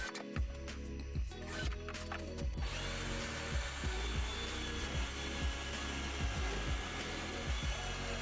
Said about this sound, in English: Now I just had to screw the shelves to the bench